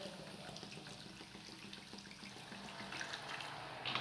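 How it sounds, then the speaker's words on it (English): Water is poured into a bowl of semolina idli batter, a faint, continuous trickling and splashing close by with no talking. "And now I'm going to add some water"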